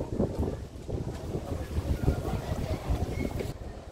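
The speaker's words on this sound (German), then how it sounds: "Der Wind ist heute sehr stark, merke ich." Strong wind buffets the microphone at the Kiliani Volksfest fairground in Würzburg, a continuous loud rumbling roar that surges and eases for the whole stretch.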